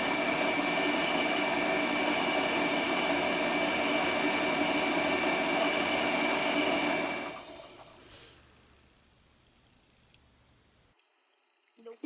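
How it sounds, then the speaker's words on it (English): A hand file rasps burrs off a steel axle for a pinewood-style derby car, a loud steady scraping that runs continuously for about seven seconds before stopping, leaving near silence with faint handling noises. "We will remove these using a file."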